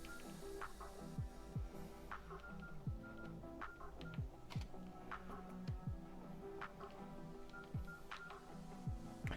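Keypad tones from a Nokia N95 phone being dialed after water damage, a series of short beeps spaced irregularly over a steady background hum, close by and moderately loud, with no talking.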